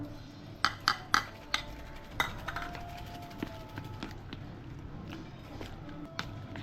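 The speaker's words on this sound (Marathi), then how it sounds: "आता कोलंबी चांगली मिक्स करून झालेली आहे" Prawns being mixed with a ginger, garlic, chili, lemon and turmeric marinade in a bowl, giving a quick series of clinking utensil taps against the dish followed by softer, scattered scraping and knocks.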